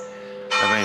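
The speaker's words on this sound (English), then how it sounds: "Does that ring all night? Those bells?" A church bell from the church right next to a house in Aragon, Spain, strikes suddenly and rings out loud and near with a bright, sustained clang over a faint background hum.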